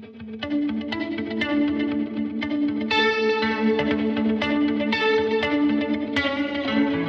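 Electric guitar played through UAFX pedals with a digital delay and a hall reverb, sustained chords and picked notes with warbly repeats and long ambient trails, loud and continuous with no talking.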